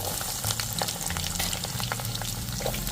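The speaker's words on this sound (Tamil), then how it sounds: "வந்து இஞ்சியும் பூண்டும் போடுறேன்" Ginger and garlic frying in hot oil in a pan for a pirandai pickle, a loud, dense, continuous sizzle heard up close with faint stirring and no voices.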